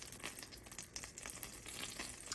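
Melted butter sizzles in a stainless steel pan as its water boils off, a steady, faint crackling fry with dense little pops throughout and no voices.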